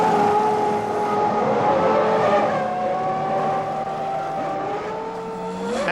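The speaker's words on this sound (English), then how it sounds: "Hill is the first Williams to come in for tyres, but loses crucial seconds following Andretti's McLaren into the pit lane" 1993 Formula 1 cars, a Williams and a McLaren, entering the pit lane, giving a continuous high engine whine with slowly shifting pitch, loud and steady throughout.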